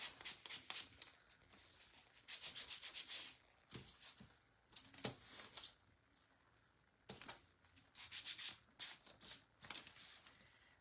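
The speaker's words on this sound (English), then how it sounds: "I just sand around the edges, and then I kind of sand over the top just to give it that little, you know, grain look" Sandpaper worked by hand over the edges and top of a small wooden craft tree, bursts of close, raspy scratching strokes in uneven rhythm with short pauses between.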